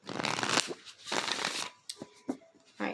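A Moonology oracle card deck being shuffled up close, with a dense riffling rush of cards in two long passes followed by a few lighter taps and slides, no voice present.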